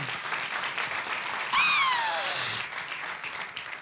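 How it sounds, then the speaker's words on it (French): Audience applause for the presenter at an African stand-up comedy festival show, a dense steady clapping crowd with a brief whistle or cheer rising over it midway. "Applaudissez pour le présentateur."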